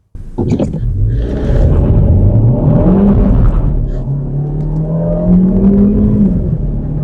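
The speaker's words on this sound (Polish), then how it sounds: "Gaz do dechy i zobaczymy jak automat sobie z tym poradzi" A Kia XCeed 1.6 T-GDi with automatic gearbox in sport mode accelerates hard at full throttle, its engine note climbing loudly and steadily with an audible gear change partway through, heard from inside the car.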